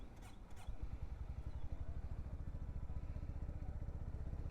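A Honda H'ness or CB350 motorcycle engine catches after a couple of sharp starting noises, then settles into a steady, close, low thumping idle with an even pulsing rhythm.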